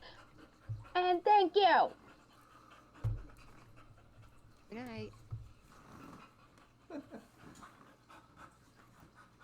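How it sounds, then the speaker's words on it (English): A lively dog pants in quick bursts close by, with short breathy runs separated by pauses, while people chat and play a board game in a quiet room. "This dog has a lot of energy."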